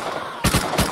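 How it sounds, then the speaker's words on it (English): Gunfire in the survival video game Rust: three sharp, loud shots ring out in quick succession after a short quiet stretch, with the last shot arriving a beat later than the first two. "He's shooting at us, isn't he?"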